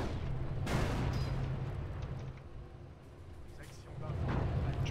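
A cannon fires in the World War II strategy game Company of Heroes at Arnhem, with a heavy boom near the start and another rumbling blast at the end, while battle noise continues in between.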